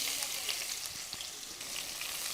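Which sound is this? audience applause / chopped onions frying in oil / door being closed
chopped onions frying in oil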